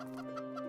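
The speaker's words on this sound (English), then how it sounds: "It's a chicken, I think." A Minecraft chicken gives a short burst of soft, close clucks against a faint tonal background hum, with no voices present.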